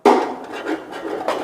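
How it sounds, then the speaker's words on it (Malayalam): A utensil scrapes stuck masala off the base of a mutton biryani pan in a few rough, rasping strokes. One firm scrape comes first, then lighter rubbing. It is close and alone, with no voices. "ഇങ്ങനെ പിടിക്കുന്നതൊക്കെ അപ്പം ചുരണ്ടി മാറ്റണം കേട്ടോ"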